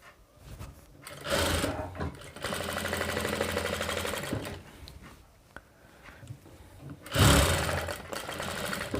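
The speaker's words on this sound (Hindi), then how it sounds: "इस तरीके से हम इसमें कच्ची सिलाई लगा देते हैं" A sewing machine runs long basting stitches through a princess cut blouse, a close rapid mechanical whirring in several bursts separated by short pauses and handling clatter.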